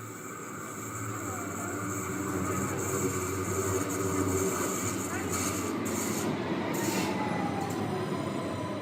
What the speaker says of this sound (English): that was the sound of one of the Stuttgart subway trains.